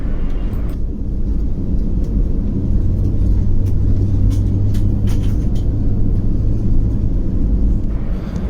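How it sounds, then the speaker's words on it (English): An AirAsia Airbus A320 taxis toward the runway, heard from inside the cabin as a loud, steady low engine rumble and drone with faint rattles. "So soon after our pushback, we started taxiing towards our designated runway."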